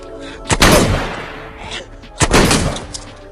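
Two loud, close gunshots from police in a film, each a sharp crack trailing into a brief rumbling decay, spaced well apart.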